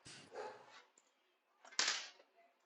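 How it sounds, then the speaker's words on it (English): Dog barking, two separate sharp barks close by, the second louder, with quiet gaps between them. "it would not be a show without a dog barking"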